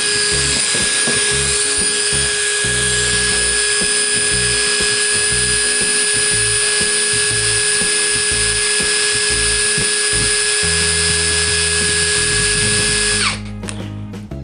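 A cordless impact driver, with three speed settings and a top speed over 3000 RPM, whines at full speed in one steady high-pitched run for about thirteen seconds, then cuts off abruptly. No talking.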